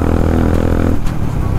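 Honda motorcycle exhaust droning loud and steady on an open highway, a low rumble with harmonic tones, shifting pitch slightly partway through as the ride continues.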